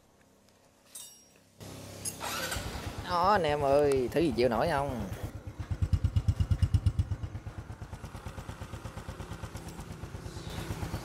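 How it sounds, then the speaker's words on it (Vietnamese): A Honda Wave motorcycle fitted with a long-stroke crank idles after a maintenance job, settling into a steady, close, rhythmic popping beat that follows a man's brief excited remark. "Để đây máy nghe lại cái nữa coi, tạch tạch tạch tạch nghe đã coi"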